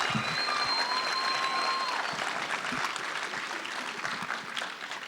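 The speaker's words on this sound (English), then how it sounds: "to thank our parents, grandparents, sisters, brothers, uncles, friends, administrators, counselors, and most importantly, our teachers." Applause for teachers at the 2017 Park West High School commencement ceremony: a large crowd claps steadily, with high whistles in the first seconds, and the clapping gradually thins toward the end.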